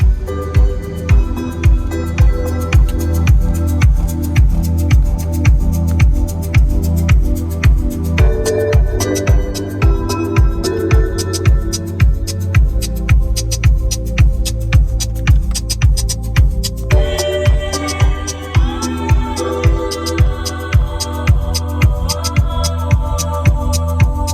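Music with a deep, throbbing bass beat plays steadily through a 2020 Mercedes-Benz CLS 300d's sound system fitted with DATASAT D31 premium handmade speakers, loud and booming, with no voices over it.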